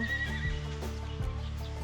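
A horse at a riding place gives a loud, close whinny with a quavering, descending pitch, followed by a few softer hoof clip-clops and snorting breaths; no one talks.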